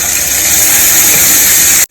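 Water poured into a hot pan of browned onions and chicken gizzards, producing a loud, steady hiss and steam rush close by that cuts off abruptly at the end.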